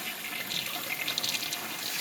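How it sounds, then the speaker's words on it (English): Running water from a flushed toilet whose bowl is stopped up with paper, water rising in the bowl; a steady close rushing and gurgling wash that holds at an even level throughout, with no voices. "This fourth flush, just to make sure, doesn't look good."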